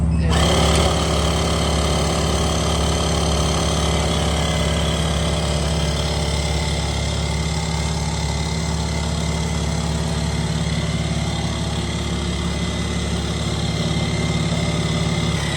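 Portable air compressor pumping up a flat tire on a wrecked Jeep Cherokee SRT, a loud, continuous motor drone with a steady rattling buzz that holds for the whole stretch, close by with no talking.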